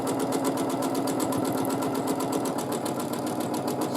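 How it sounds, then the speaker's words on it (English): A sewing machine runs steadily during free-motion quilting, its needle hammering in a fast, even rhythm, close and loud throughout. "I'm sorry if you cannot hear me over the machine"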